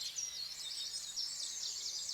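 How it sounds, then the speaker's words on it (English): A recorded dawn chorus plays back, several birds trilling and chirping in quick, overlapping high phrases, fairly faint but continuous, with no voices over it. "we're going to listen to some birds"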